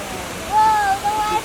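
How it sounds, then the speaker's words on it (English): A small waterfall on the San Antonio River Walk, a steady, broad rushing wash heard from a boat, with a voice talking over it. "Look at the little waterfall."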